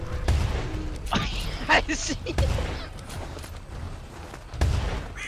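Gunshots in a video game while hunting Bigfoot, a handful of sharp, loud bangs spaced a second or two apart over game noise, with a voice briefly speaking.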